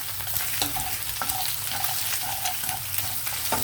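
Eggs seasoned with salt and black pepper are stirred in a hot pan, with a steady sizzle and faint scraping strokes of the utensil close by.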